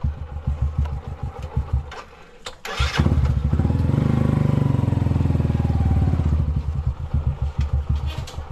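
A motorcycle engine rumbles nearby, puttering at idle, briefly cutting out, then catching again with a louder steady idle that eases back to a lumpy putter.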